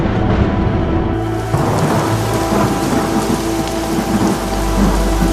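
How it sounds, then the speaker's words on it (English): Heavy rain pours steadily over a deep rolling thunder rumble, loud and continuous, as a sound effect standing in for acid rain on Venus. "if you look up, you may see rain"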